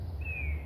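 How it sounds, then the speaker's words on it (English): A single thin, high bird chirp rises briefly over a low, steady background hum. "maybe you can hear the birds singing, chirping. It's quite cool."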